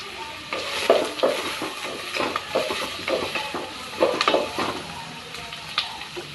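Green chillies and crushed garlic sizzle in a hot pan for a chicken gravy, with an irregular run of crackles and stirring scrapes at close range.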